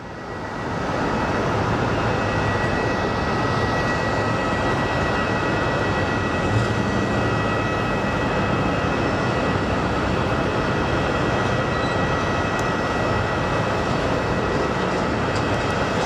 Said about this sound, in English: So next up is a 737 8H coming from Milwaukee.